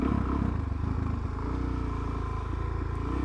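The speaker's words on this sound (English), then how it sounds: "Good to see three lads on scooters up here" Scooters ride past on a road, their small engines buzzing and clattering close by at moderate volume, steady for a few seconds with no talk over them.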